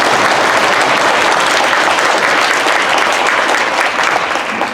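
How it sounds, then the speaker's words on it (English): Steady, dense applause fills a school hall at a fifth-grade elementary winter concert, honoring the drummer and performers: loud, continuous clapping from a sizable audience with no break. "give one more round of applause to Ike on the drums as well as everyone in the house."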